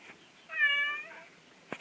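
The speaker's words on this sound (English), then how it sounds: "8 kitties all in one room." A single clear cat meow, short and rising then falling, in a quiet room with several cats, fairly close and on its own, followed by a faint click.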